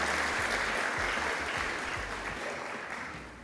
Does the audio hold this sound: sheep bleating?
no